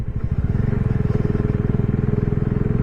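A Bajaj Dominar 400 motorcycle engine thrums steadily and close while riding a mountain road between Sarchu and Manali, with a fast, even pulsing beat throughout and no talk.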